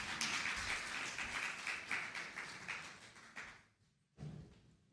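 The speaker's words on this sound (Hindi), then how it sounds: "जोर से ताली बजाएं खुदा उनके लिए।" A church congregation claps together in a broad, continuous wash of applause that thins out and fades, then stops briefly before another short burst of clapping.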